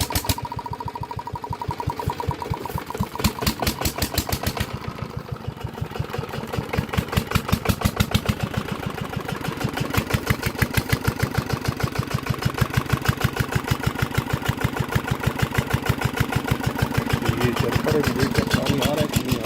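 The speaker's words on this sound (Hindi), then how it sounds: "तो अभी ये चल रहा है इंजन।" A 12 hp Peter diesel engine drives a tube well pump on a farm in cold weather. It chugs steadily, loud and close, in an even rapid rhythm that holds for the whole stretch, with faint voices at times.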